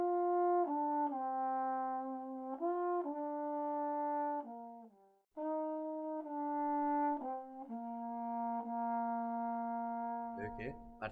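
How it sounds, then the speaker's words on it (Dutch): Solo trombone plays a slow melody of sustained notes, stepping between pitches with a short pause midway, close and clear, before handling noise at the end. "ik speel trombone. En dat klinkt zo."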